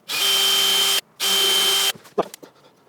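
Power drill boring a hole in a campervan worktop, two loud steady whining bursts close by with a brief pause between, followed by a few small clunks and taps.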